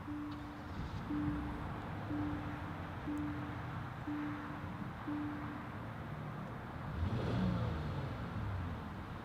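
A 2017 Genesis G80 started by push button: six evenly spaced soft chimes, then the engine cranks and catches into a low, quiet idle in a calm interior.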